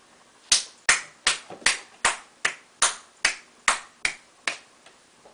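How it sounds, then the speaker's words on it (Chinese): A child clapping hands, about a dozen sharp, close claps in a slow, fairly even rhythm with short gaps between each. "姑姑拍手啊， 拍手"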